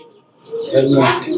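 A Helmet pigeon at a planned Bangladeshi pigeon farm gives a brief, loud, close throaty coo that swells after a quiet start and fades out at the end.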